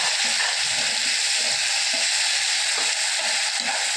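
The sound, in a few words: raw mango and curry leaves sautéing in oil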